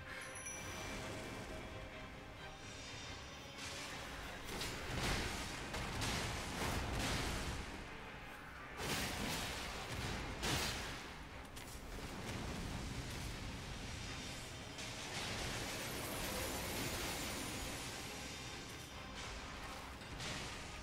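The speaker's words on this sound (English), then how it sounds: "Oh, this is an explosion thing." Explosions in the video game Elden Ring come as repeated heavy booming blasts and crashing bursts over a dense roaring noise bed, loud and continuous with several sharp impacts.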